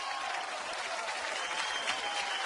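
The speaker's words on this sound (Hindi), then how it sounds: "इनके लिए जोरदार तालियां हो जाए" Audience at a comedy award show applauding loudly and continuously, a dense wash of clapping close and full throughout.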